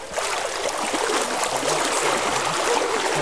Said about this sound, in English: This is the roaring river, and the water's a bit chilly as you feel it right now.